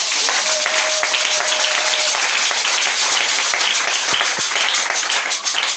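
A church congregation applauding together, dense and sustained clapping filling the room at full volume without pause.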